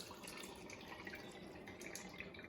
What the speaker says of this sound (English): we're going to get started by filling up the can with 1/4 of the way with some regular temperature water, room temperature water